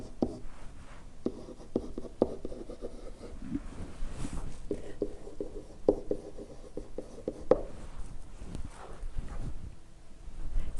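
Pencil writing on paper in a classroom geometry lesson: quick, soft scratching strokes and taps in irregular bursts, close and fairly quiet, with no talk over them.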